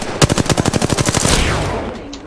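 A fast, loud burst of automatic gunfire from the Apex Legends video game, a dozen or so evenly spaced close shots rattling for about a second before trailing into a fading echo.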